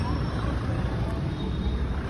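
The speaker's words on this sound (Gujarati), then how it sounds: "મિત્રો ગાડી ચાલુ થઈ ગઈ છે" A 2017 Maruti Wagon R VXI petrol hatchback, one owner with about 98,000 km, idles just after starting: a steady, close, continuous low engine rumble with an even drone and no revving.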